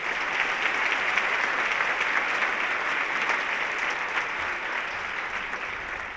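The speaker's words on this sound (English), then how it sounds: "Let's give them another round of applause." Audience at a school Veterans Day assembly applauding the orchestra, a dense, steady wash of clapping from many hands that holds evenly for the whole stretch without voices.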